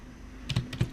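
A few quick, close computer keyboard keystrokes type a command into a command-line wallet, short clicks bunched near the end of a quiet stretch.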